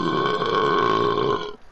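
One long, loud, drawn-out burp, close and tonal, holding steady for over a second before cutting off abruptly.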